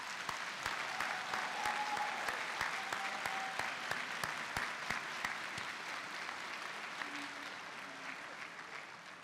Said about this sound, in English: they also deserve a well-deserved round of applause